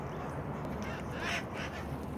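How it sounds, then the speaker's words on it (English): Parrots call from backyard trees, their faint, distant squawks rising briefly over a steady wash of outdoor background noise. "there are parrots all in these trees"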